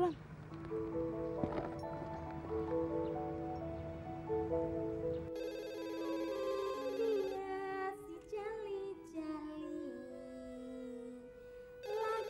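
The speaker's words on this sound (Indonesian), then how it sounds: "Itu telepon berbunyi." A phone rings with a repeating electronic melody, steady and moderately loud, while a voice speaks faintly in the background.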